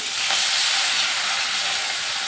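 Steady loud hiss of half a glass of water hitting a hot pan of oil-fried spices and turmeric, a continuous sizzling steam sound with no talking.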